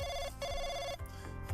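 A phone rings in the Bloody Chronicles visual novel game, a quiet electronic telephone bell in two quick trilling bursts over soft background music.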